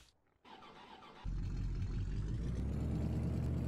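A tractor engine in Farming Simulator 17 starts up after a brief quiet moment, then settles into a loud, steady low diesel rumble and idle that holds to the end.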